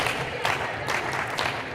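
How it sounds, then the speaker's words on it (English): Crowd clapping in a rhythmic chant at a volleyball match, a steady wash of hand claps with a few stronger bursts, filling a busy gym-like space at moderate distance. "Good clapping chant."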